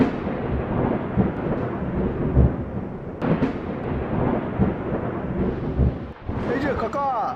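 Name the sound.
rain and thunder in a storm at night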